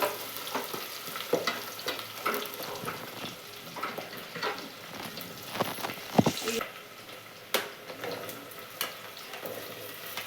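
Ingredients fry and get stirred in a pan with a steady close sizzle, broken by repeated scraping strokes and a few sharper knocks of the utensil against the pan.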